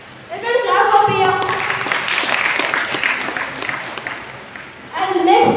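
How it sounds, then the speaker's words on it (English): Classroom students clap for a classmate named Priya during an optics lesson: several seconds of brisk, close clapping, with a teacher's voice speaking just before and just after. "Everyone clap for Priya."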